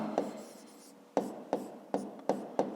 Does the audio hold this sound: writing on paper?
yes